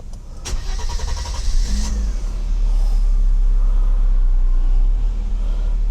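A Mercedes-Benz W126 300SE, just repaired for a faulty fuel distributor, restarts with a sharp crank burst, then settles into a loud, steady engine idle up close.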